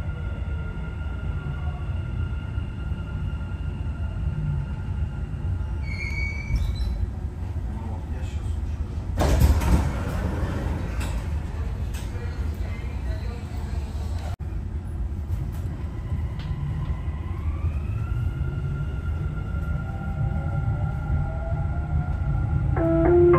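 Dubai Metro train running between stations, a steady low rumble and rolling hum throughout, with a brief louder rattling burst partway through and rising whine near the end.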